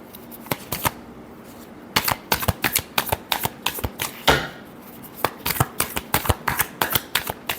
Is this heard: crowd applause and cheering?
no